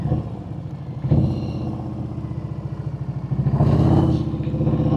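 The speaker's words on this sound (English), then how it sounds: "Ooh, man, them pipes sound good" A motorcycle's aftermarket exhaust pipes rumble loud and near, idling with a choppy beat and blipped up in two sharp revs before settling back.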